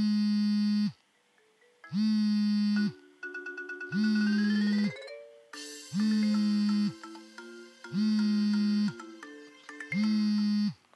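A bright electronic iPhone ringtone melody plays in repeated bursts, with short gaps between phrases and a sustained low tone under each burst. No one speaks.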